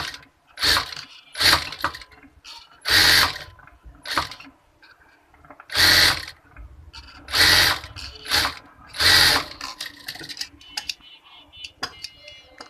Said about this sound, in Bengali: এটার উপরে এই গলাটা রেখে এখন আমি এটা সেলাই করে নিব